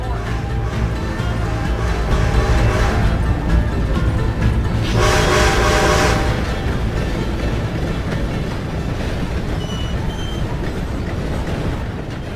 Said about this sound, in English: Gotta beat that train, Morgan!